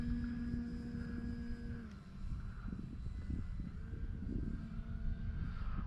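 An E-flite Carbon Z Cessna 150 radio-controlled electric plane on a 6S battery drones overhead with a steady motor whine that dips in pitch partway through, then swells and fades as it passes at moderate distance.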